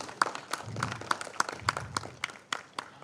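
Sparse, scattered hand claps from a conference audience in a hall, saluting the session chairperson; about a dozen crisp claps spread unevenly over a few seconds, fairly close and moderately loud.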